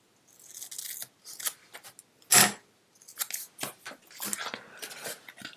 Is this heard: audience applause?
no